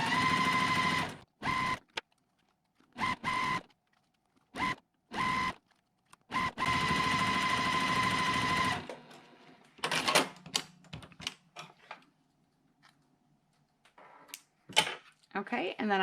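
A sewing machine joins quilt patches into a four-patch block in several short, loud bursts of rapid stitching separated by silences, followed by quieter handling sounds with a voice speaking now and then.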